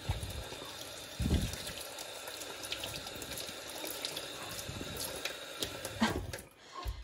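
Hands rinsed under a running tap, a steady close splash of water with occasional louder gushes and no talking.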